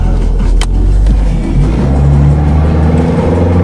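Car engine revving hard as a tire spins and burns rubber on a farm during a cold start, a loud continuous roar with a low rumble swelling and shifting pitch throughout.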